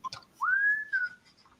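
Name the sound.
whistled theme song of The Andy Griffith Show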